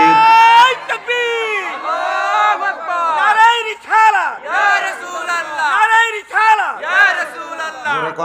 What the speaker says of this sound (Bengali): যারা যারা যাইতে চায় ডান হাত তুলে একটা নারে তাকবীর দেন নারে